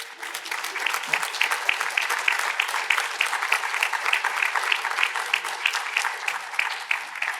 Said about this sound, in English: I'm going to ask all of our alums who are here with us tonight to stand up for a round of applause